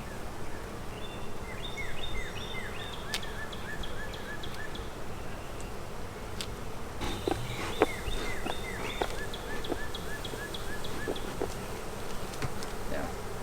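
Honey bees swarm and buzz around an open hive during an inspection, a steady close drone with individual insects zipping past the ear throughout.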